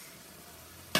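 Pinakbet vegetables, including butternut squash, sizzle softly in a pan over low, steady heat, then a brief louder clatter or scrape comes at the very end.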